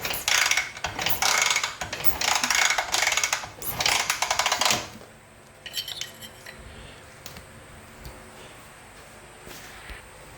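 BSA A65 Lightning motorcycle being kick-started after a TriSpark ignition upgrade: a loud run of rapid metallic ratcheting clatter for about five seconds, then quieter mechanical ticking and faint noise.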